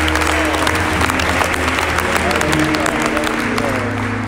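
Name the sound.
congregation applause, hand clap of worship in church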